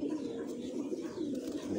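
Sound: pigeons cooing

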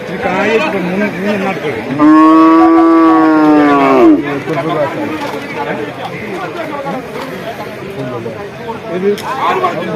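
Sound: cattle mooing at a livestock sale

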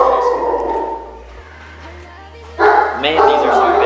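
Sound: big dogs barking

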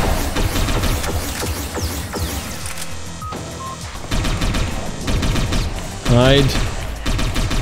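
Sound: gunfire from agents in Satellite Reign video game

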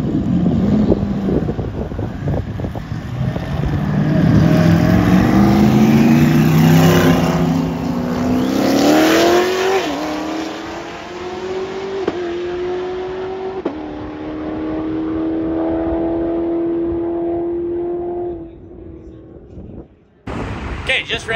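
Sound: 2019 Corvette ZR1 roll racing qualifying pass

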